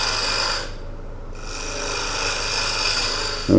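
Woodturning on a lathe while shaping a manta ray bowl: a steady, close rasping scrape of the tool cutting wood, with a brief break in the cut partway through and a louder scrape at the end.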